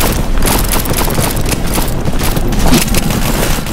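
A grenade blast in Counter-Strike: Source, playing in a Zombie Escape map, heard as a loud, dense booming burst that keeps rumbling through the whole stretch amid continuous game noise.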